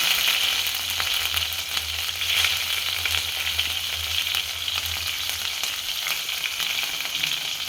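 Two or three green chillies fry in hot oil with garlic for a tomato saar tempering, giving a steady, close crackling sizzle with no talk.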